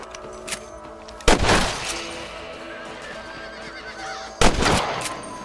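Two sharp rifle shots from a hunter picking off rabbits in the Western video game Red Dead Redemption, the first near 1.3 seconds and the second near 4.4, each booming loud over a quiet outdoor ambience with a soft decaying tail.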